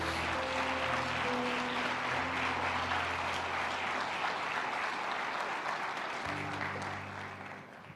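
A church congregation claps in a sustained burst of applause, thick and even throughout, with organ or keyboard chords sounding beneath and the clapping thinning as it ends.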